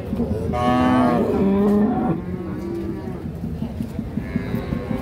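A Holstein Friesian dairy cow at a cattle market gives a long, loud moo up close, then a shorter second call, amid a murmur of crowd noise.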